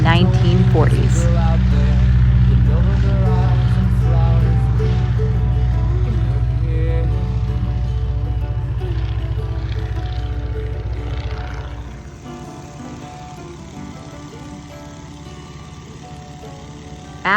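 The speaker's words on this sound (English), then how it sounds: "This is the Stearman biplane, Model 75." Stearman Model 75 biplane, a 1930s–1940s American aircraft, with a loud, steady low engine and propeller drone that fades somewhat partway through, while a person talks over it.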